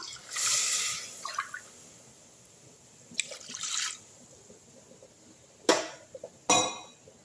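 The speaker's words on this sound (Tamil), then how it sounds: "இப்போ இதில் வந்து ரெண்டு டம்ளர் தண்ணி ஊற்றிக்கலாம்" Water poured from a tumbler into a pan of lightly roasted toor dal, heard as a few short splashing pours and trickles with clinks, separated by quiet gaps, close by and moderately loud.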